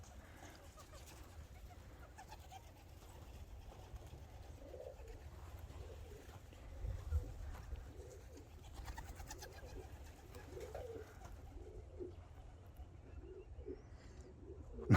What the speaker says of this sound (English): pigeons going everywhere.